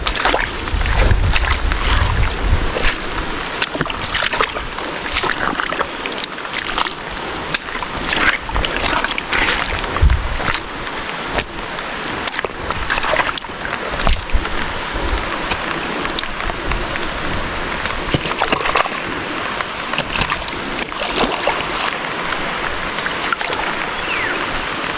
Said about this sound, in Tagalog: Tuloy-tuloy na po ang tubig.